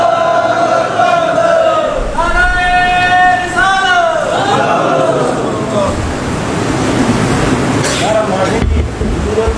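Large crowd chanting a slogan in loud unison, rising and falling voices repeated over several seconds with a dense background roar of gathered people.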